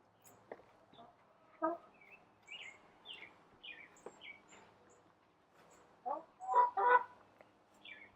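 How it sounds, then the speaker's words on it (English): Soft, scattered chicken calls sound at a low level, then a few louder clucks and squawks come near the end. "Chickens like yoga too."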